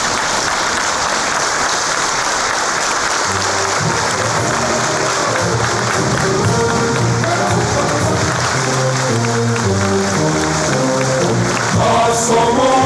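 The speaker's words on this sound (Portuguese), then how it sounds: "será recebido com efusivas salvas de palmas de todos nós" Audience at a lecture by General Mourão on Freemasonry and society gives sustained, dense applause with loud clapping throughout.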